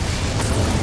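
Incendio fire spell cast in Hogwarts Legacy, a short whooshing burst of flame with a deep booming rumble underneath, loud and close, lasting under a second.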